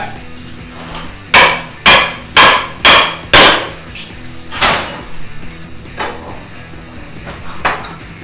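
A Halligan bar strikes and pries at a door during conventional forcible entry: five loud, evenly spaced metallic impacts, followed by a heavier blow and then a few softer knocks and scrapes, all close up.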